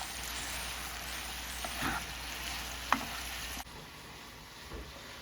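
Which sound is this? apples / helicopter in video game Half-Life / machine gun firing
apples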